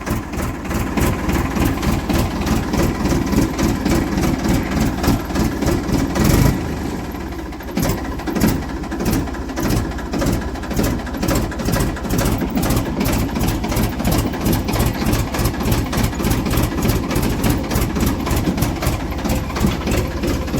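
A tractor engine runs close by with a loud, steady rapid chugging pulse. A short shift in tone comes partway through before the even rhythm carries on, and no one speaks.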